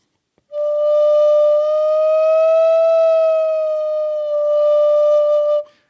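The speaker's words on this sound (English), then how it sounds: "on the bamboo flute, if you go like this and you roll up or off or on, whichever note, you're going to make this bend sound." A bamboo flute holds one long pure note for about five seconds, bending the pitch slightly upward and then back down, played close and solo.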